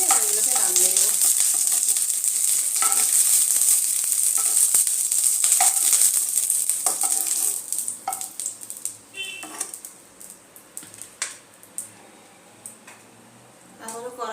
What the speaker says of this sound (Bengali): হালকা করে পেঁয়াজগুলো ফ্রাই হয়ে গেছে